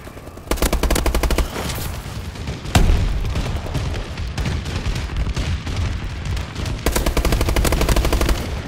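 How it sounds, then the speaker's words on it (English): Explosions from a friendly bombing run in a video game crash out in sharp booms amid dense rapid gunfire, loud and continuous with repeated blasts throughout. "Friendly bombing run clearing the way"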